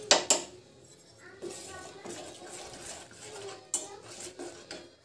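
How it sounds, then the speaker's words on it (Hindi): Cashews and almonds stirred in a pan for milk sewaiyan, a metal spoon scraping and clinking against the pan in short bursts, close and fairly soft, with a voice speaking at times. "काजू, बादाम, इन सबको घुमा लेंगे।"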